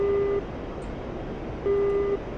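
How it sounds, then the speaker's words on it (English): Radar warning receiver tone in a fighter jet flight simulator game: two steady, clear electronic beeps of about half a second each, spaced over a second apart, over a constant low cockpit rumble. "What's the beeping indicate? That's my radar warning receiver"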